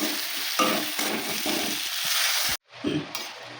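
Water poured into a hot pan of frying fish curry with potatoes, a loud continuous sizzle and hiss that cuts off abruptly, followed by a softer bubbling.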